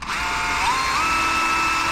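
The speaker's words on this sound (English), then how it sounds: "I'm going to go ahead and drill it out a little bit" Power drill boring a small pilot hole in a wood board for a face frame, a steady high whine held for two seconds, close and alone, pitch rising slightly as it bites.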